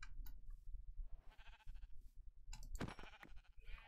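Sheep bleating in the Minecraft video game, several short bleats scattered across a few seconds, fairly quiet and heard without talk.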